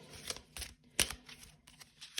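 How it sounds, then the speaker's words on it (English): Tarot cards being shuffled by hand, soft quiet riffles and taps in an irregular rhythm, close and faint with no talking. "Let's give it a little shuffle again."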